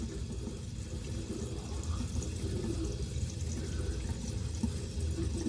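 Water splashing and running close by as a woman rinses her face by hand at a sink, a continuous wet rush with small irregular splashes.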